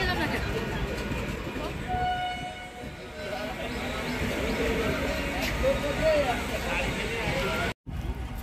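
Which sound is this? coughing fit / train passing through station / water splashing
train passing through station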